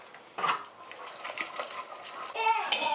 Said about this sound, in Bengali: দিয়ে কুকারটা ভালো করে এইভাবে মিশিয়ে নিলাম একটু